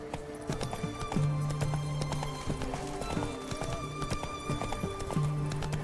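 Hooves of Geralt's horse Roach clip-clop steadily on the ground in The Witcher 3, a brisk, regular rhythm of close, crisp hoofbeats, with a few brief snorting, whinny-like tones and game ambience underneath.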